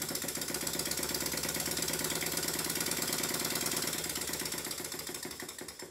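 A Stuart S50 miniature steam engine runs fast, as when driving a generator, giving a rapid, even mechanical chatter of beats that holds steady and eases slightly toward the end, with no voices.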